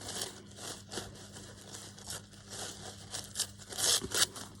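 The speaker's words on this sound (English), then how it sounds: "So I'm just going to rip some of that off." Paper being torn for an envelope stack craft makes faint, close rasping rips in several short bursts, the final strokes a little louder.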